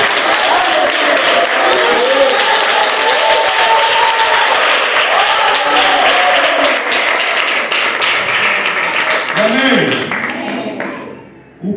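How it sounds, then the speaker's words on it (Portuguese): A church congregation applauds during a sermon, loud sustained clapping from a large crowd with cheering voices woven through it, continuing for several seconds before fading out near the end. "E aplaude."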